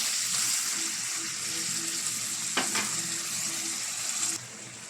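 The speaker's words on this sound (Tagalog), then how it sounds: "Kaya nalagyan na natin siya ng kaunting tubig mga amigo." Water poured into chicken afritada in a pan sets off steady frying and sizzling, with a brief splashing burst midway and a softer simmer near the end; no one talks.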